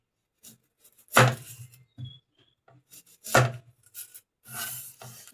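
Knife chopping onion on a board, three separate bursts of sharp, close cutting strokes with brief quiet gaps between them.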